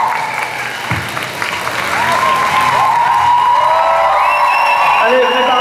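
A convention hall crowd at a Paris manga event applauds loudly and steadily, the clapping building to a dense wash while whoops and cheers rise above it, and a presenter's voice is heard over the applause.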